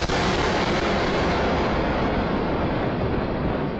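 Artillery shelling near a Chinese peacekeeping camp in Lebanon arrives as a continuous loud, rumbling roar without clear breaks, like sustained bombardment heard close by with wind buffeting the microphone.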